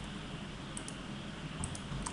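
A few faint, quick keyboard clicks on a computer keyboard as the F4 key is pressed, light taps spaced over a steady background hiss.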